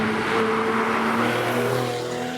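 A Porsche 991 S in Sport Plus mode with its louder exhaust setting drives steadily, its engine drone heard from inside the cabin and rising gradually in pitch over a broad road roar.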